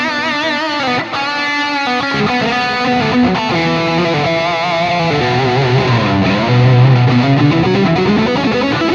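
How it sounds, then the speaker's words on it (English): Electric guitar through an Axe-FX 3 pad patch with delay plays smooth, sustained chords and gliding lines, with a dense, continuous wash of echoes at a steady loud level. "here's the same pads with a little bit of delay."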